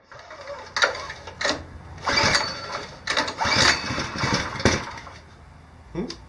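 Recoil starter cord yanked repeatedly on the small engine of a homemade side-by-side, several separate ratcheting pulls with sputtering bursts between them, close and fairly loud, no voices.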